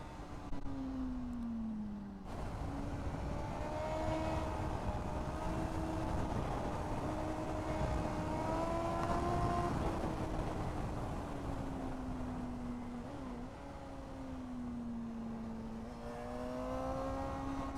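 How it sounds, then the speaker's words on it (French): A Honda Hornet 600 motorcycle with a carbureted engine revs continuously while riding, its engine note climbing and falling through the gears, loud and steady with wind and road noise beneath. "Oh là là, ça monte dans les tours, c'est incroyable."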